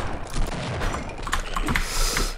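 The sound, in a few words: shotgun gunfire in video game Half-Life: Visitors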